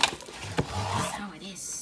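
An Alex drawer slides open or shut in a makeup vanity setup with a short wooden knock and rattle near the start, followed by a soft scraping glide; a faint voice murmurs underneath.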